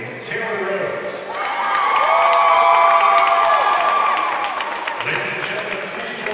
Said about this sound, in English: giving a round of applause for our senior Spirit Squad members